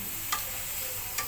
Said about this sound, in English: And then you let it fry for a while.